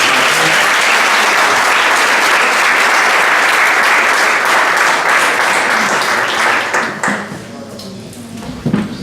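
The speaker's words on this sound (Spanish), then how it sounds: "Damos un aplauso a Jan." Church congregation applauding, a dense sustained clapping that fills the room for about seven seconds before thinning out, with a few scattered claps at the end.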